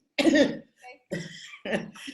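Three bursts of coughing and throat clearing, harsh and close, separated by brief pauses.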